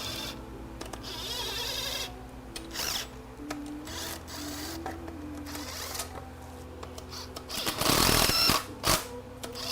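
A 12 volt power driver runs down bolts on a 5R110W TorqueShift transmission in short whirring bursts with changing pitch, mixed with metallic clicks and handling clatter nearby.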